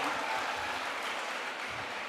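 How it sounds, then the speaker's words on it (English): Applause from an audience honouring students at a school annual day, a dense, steady wash of clapping throughout, fairly faint and distant with no voices on top. "let's give them a big round of applause for the students"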